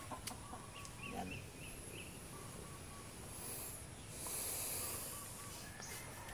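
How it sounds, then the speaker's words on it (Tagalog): Chickens cluck faintly and intermittently in a quiet rural outdoor spot, distant and low against a soft background hiss. "Nasa mga manok dito."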